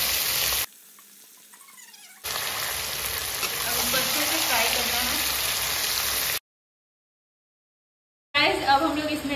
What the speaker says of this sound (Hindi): डाल रहे हैं हम लोग का चिकन का मिक्सचर, जिसमें हम लोगों ने प्याज वगैरह सारा मिक्स किया था वो डाल रहे हैं, और उसको अच्छे से भूनना फ्राई करना है।